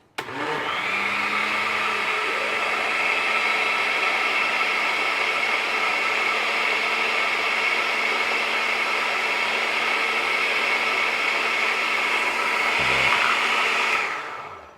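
A blender mixes Brazilian pudding cake batter with a loud steady motor whir for nearly fifteen seconds, nonstop and close, before cutting off at the end.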